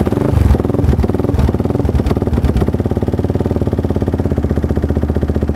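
Yamaha R15 150cc motorcycle with a Yoshimura exhaust, 17 horsepower, idling on its own with a steady, low, throbbing burble and rapid even pulses, close and fairly loud.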